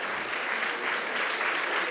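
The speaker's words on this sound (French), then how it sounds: "Un petit applaudissement pour nos sponsors" Steady applause from an audience at a group cosplay competition at Japan Impact 2020, a dense even wash of clapping holding for the whole stretch without a break.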